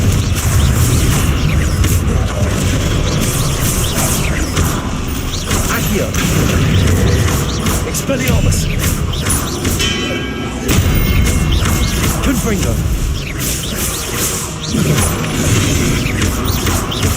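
Explosive Confringo spell blasts go off repeatedly in Hogwarts Legacy combat, with booming impacts, crashes and clattering effects over a dense, continuous game soundscape, while a player shouts spell names throughout.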